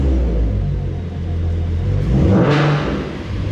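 A Ford Mustang V6 3.7L engine revs through an aftermarket Roush exhaust, a deep rumbling idle swelling into a louder throaty roar midway, then settling back.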